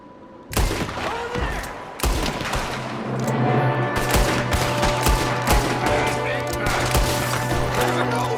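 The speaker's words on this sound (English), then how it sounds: "There's another one shooting from the window." Red Dead Redemption 2 gunfight with loud, irregular rifle and pistol shots ringing out one after another over a tense music bed, each crack sharp and close.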